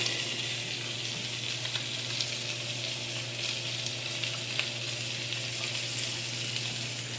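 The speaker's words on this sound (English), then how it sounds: "I'm going to saute this for a little bit" Meat and vegetables for jambalaya sauté in a pan with a steady, close sizzle and crackle, occasional small stirring pops over a constant low hum, with no talking.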